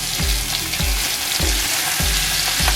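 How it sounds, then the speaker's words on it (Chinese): Shiitake mushrooms and pork belly stir-fry in rendered pork fat, a loud continuous sizzle broken by regular scraping stirs of the spatula roughly every half second. "用这个煸出来的油来煸香菇，香菇的香味已经出来了"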